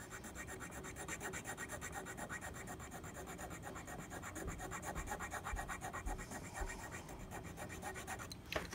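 Hand file rasping across the bite area of a saxophone mouthpiece during a repair, a faint continuous back-and-forth scraping in close, even strokes with no talk, ending in a brief clatter.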